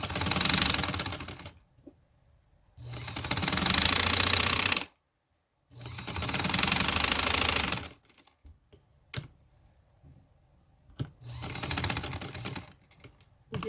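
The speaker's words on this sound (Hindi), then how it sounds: "अब हम बाहर की सिलाई लगा रहे हैं," An electric sewing machine stitches the outer seam of a summer neck design in several loud, rapid runs of a couple of seconds each, broken by quiet pauses and small handling clicks.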